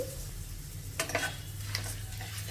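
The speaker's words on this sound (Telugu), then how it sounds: "ఈ పోపు దినుసుల్ని మీడియం ఫ్లేమ్లో ఒక నిమిషం ఫ్రై చేసేసుకోవాలి" Faint, steady sizzling of cumin and tempering spices frying in hot oil over medium flame, with a few light scraping clinks of a spoon stirring the pan.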